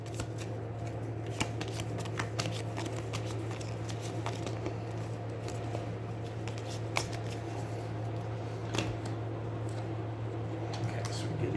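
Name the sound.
shuffling game cards back into deck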